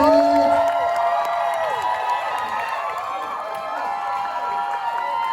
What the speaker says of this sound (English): give us a massive cheer for Pixelated